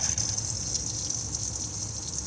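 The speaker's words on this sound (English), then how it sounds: "I can turn the water pump on just here by pressing the button" Water gushes steadily from a tap inside an Adria Adora caravan while the onboard water pump runs, a continuous close rush with a faint high hum and no speech.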